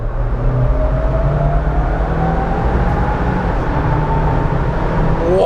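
Jeep Wrangler 4xe hybrid accelerating during an acceleration test: a loud, steady engine and road drone with a faint rising whine, heard from inside the cabin.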